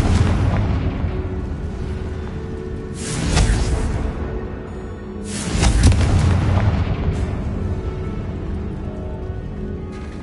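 Confringo spell explosions in a video game, heard as two heavy booming bursts over a loud, continuous rumbling din that swells and then settles back.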